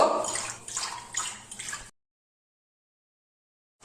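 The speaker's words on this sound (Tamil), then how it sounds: "அரை கப்பு தண்ணி விட்டுக்கிறேன்" Half a cup of water splashes into curd for a bread adai batter, a close, gurgling pour lasting about two seconds before it stops into silence.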